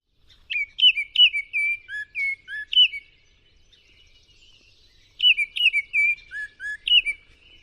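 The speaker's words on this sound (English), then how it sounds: "They have this flute-like whistle sound, and they have a variety of sounds that they make." A Baltimore oriole sings two bursts of clear, flute-like whistled phrases separated by a few seconds of quiet, close and distinct.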